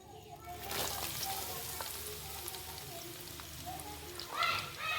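Whole cloves and chopped onion sizzle in hot oil while a homemade onion hair oil is being cooked, giving a steady, close frying crackle throughout with a voice talking over it.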